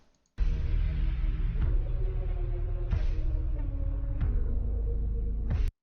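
Music slowed down with pitch locked by time-stretching, a low, droning, dragged-out character, a continuous thick tone with occasional accents, sounding eerie and heavy.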